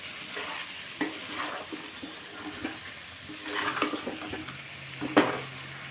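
Egg curry masala sautéed in a pan with water added, spatula scraping and stirring in bursts against a soft steady sizzle, with a few sharp clinks of utensil on metal.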